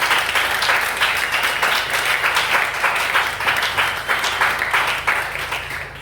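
A church congregation applauds in steady, rhythmic clapping that stays loud and fairly even for several seconds, easing slightly near the end.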